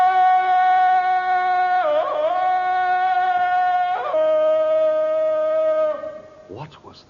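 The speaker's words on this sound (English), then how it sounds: "It's the cry of the victorious aboriginal ape." Tarzan's yell, the cry of the victorious ape, rings out as a loud, sustained, close-up vocal call that warbles and breaks between pitches several times before cutting off, with a short breathy trail at the end.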